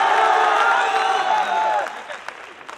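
A political rally crowd in Dindoshi cheers, claps and chants slogans in a loud blended roar that thins out and fades toward the end.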